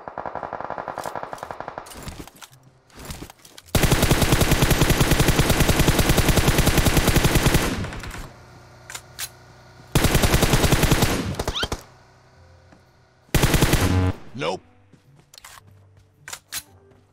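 Loud sustained automatic weapon fire in PUBG, several long bursts of rapid shots separated by pauses and scattered single cracks, close and dominant.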